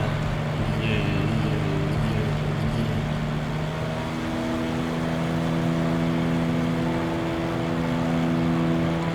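A simulated aircraft engine in Microsoft Flight Simulator 2024 drones at full speed, a steady loud hum with sustained tonal lines that shift and climb partway through, continuous for the whole stretch.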